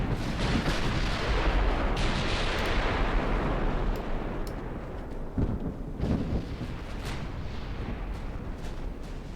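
Heavy explosions and rolling gunfire from a naval battle in a British legendary campaign video game, a continuous loud barrage of booming blasts with sharper cracks, no talking.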